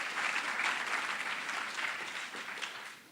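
An audience claps in a sustained, dense round of applause at a school prize day ceremony, steady and fairly loud throughout before tapering slightly at the end.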